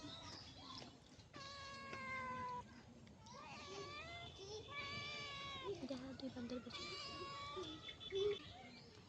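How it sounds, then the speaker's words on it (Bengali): A cat meows repeatedly, begging another cat for food: a series of drawn-out, wavering cries close by, with a person speaking briefly among them. "আর এক বিলাই ওর কাছ থেকে চাইতেছে যে আমাকে একটু দাও"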